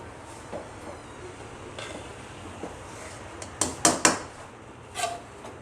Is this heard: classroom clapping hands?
no